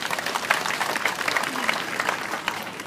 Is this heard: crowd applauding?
yes